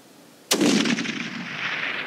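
Single loud rifle shot fired at a cow elk during a hunt, a sharp crack followed by a long rolling echo that fades slowly across open terrain, with no talking.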